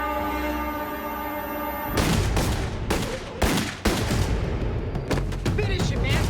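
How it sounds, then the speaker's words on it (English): Gunshots fired at a man in a dramatized crime reenactment, a burst of loud, sharp bangs in quick succession over a tense droning score, with a voice speaking beneath. "The younger one, Saeta, pulled out a gun and began to fire at Sal."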